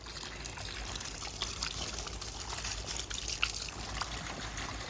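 Water pours and trickles steadily onto moist peat moss bedding inside a red wiggler worm composting bin, a continuous soft splashing stream with no talking.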